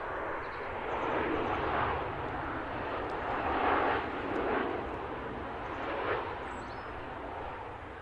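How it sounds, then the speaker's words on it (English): Ryanair airliner touching down at Manchester Airport, a distant broad jet roar swelling and easing with faint surges over eight seconds, heard from afar without talk. "Ryanair about to touch down."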